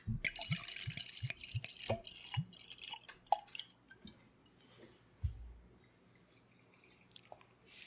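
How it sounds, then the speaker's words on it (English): Sake poured generously into a glass, heard as close, quiet liquid trickles and drips with a few light clinks of glassware against a hushed background. "that was a hearty pour"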